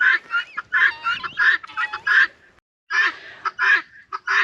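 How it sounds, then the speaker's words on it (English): Guinea fowl on a homestead call noisily in loud, harsh, repeated bursts close by, a rapid chattering racket with only a brief pause near the middle. "if you can hear me above all these guineas like to make all the crazy noises"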